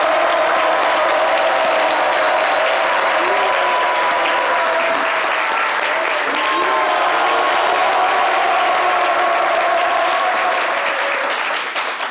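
Studio audience applause on a live French-language midday radio show in Côte d'Ivoire, a loud, dense, steady burst of clapping filling about twelve seconds and tapering slightly at the very end, with no talk over it.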